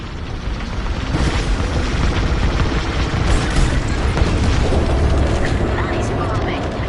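Bombing explosions in a combat video game, a dense stretch of heavy booms and bursts rolling together, loud and continuous, under radio-style chatter.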